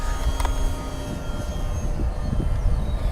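An FMS 800mm P-51 RC model airplane flying over a grass field at about half throttle, a steady electric motor whine with rising and falling tones, overlaid by gusty wind rumble near the microphone.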